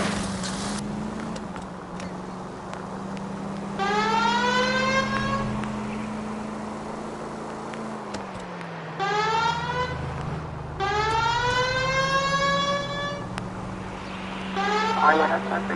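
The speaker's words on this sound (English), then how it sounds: "Turn the goddamn siren on." A police car siren wails in rising and falling sweeps inside the LA Noire video game, loud over a steady engine hum, with brief gaps between cycles and voices talking.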